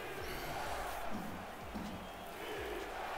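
Loud stadium crowd roaring and cheering at a football game in London at Atlanta, a dense sustained wall of voices with shouts rising and falling, and a deep rhythmic thumping underneath throughout.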